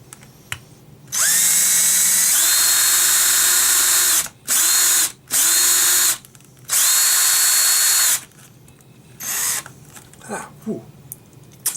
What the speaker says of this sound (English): So I'm going to go ahead and drill that out.